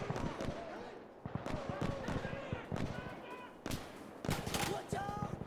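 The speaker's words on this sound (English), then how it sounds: "Watch out! Machine gun!" Bursts of machine gun fire from a military shooter game ring out in quick rattling clusters, fairly loud, with voices talking over the shots throughout.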